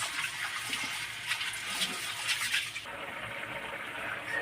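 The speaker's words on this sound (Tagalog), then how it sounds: "Lagyan na ng tubig." Water pours into a cooking pot while chop suey is being made, a steady close rushing and gushing stream with a brief shift in tone partway through, heard alone without talk.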